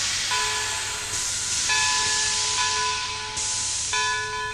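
A train departs in the video game Shadow Man: Remastered, a loud steady steam-like hiss with sustained bell-like ringing tones that shift and restart a few times, with no talking.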